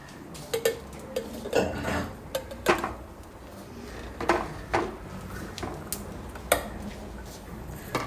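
Cut tomato pieces dropped into a mixer grinder jar in a home kitchen, a series of close, light clinks and knocks against the jar spread irregularly with brief pauses, no talk.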